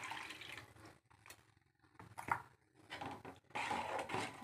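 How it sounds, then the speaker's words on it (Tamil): Water poured into a pan of egg curry, soft intermittent trickling and splashing bursts with brief quiet gaps, faint and close. "இப்போ தண்ணி லைட்டாக ஊற்றிக்கலாம்"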